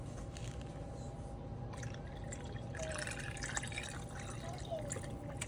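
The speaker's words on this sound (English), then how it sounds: "I'm going to add some juice in these. And I do have more juice over there, so let me pour it in" Juice poured into canning jars during water bath canning, a faint liquid trickle and drip at low level under room noise, with a few soft splashes.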